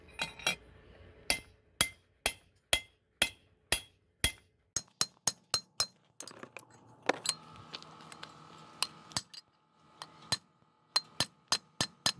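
Sharp metallic hammer strikes ring out one after another in an uneven rhythm, some faster bursts, as wheel studs are hammered into a Dana 60/70 rear brake hub on a first-generation Cummins truck, close by with a quiet background.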